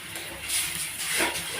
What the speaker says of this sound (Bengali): মশলাটা ভাজা হয়ে গেছে এবার পানি দিয়ে দিলাম